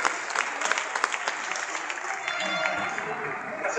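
An audience at an award ceremony applauds with brisk, steady clapping while voices talk over it.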